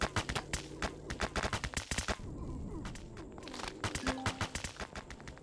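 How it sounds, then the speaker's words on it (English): Sharp gunshots in bursts and rapid volleys in the sci-fi game Empyrion Galactic Survival, close and punchy, pausing briefly in the middle before the fire picks up again. "Who's firing at me?"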